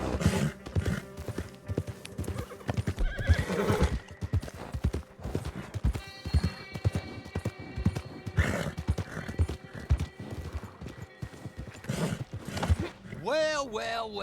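Horse hooves clip-clop steadily while a horse neighs and whinnies in the Red Dead Online video game, the galloping rhythm running throughout and a loud whinny near the end, with people talking over it.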